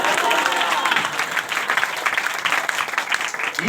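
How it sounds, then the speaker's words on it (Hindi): A church congregation claps together during a Hindi sermon on the prayer of the righteous: steady, dense applause fills the whole stretch at a loud, even level without pause. "अरे ताली बजाए"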